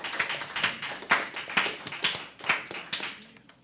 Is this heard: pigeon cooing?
no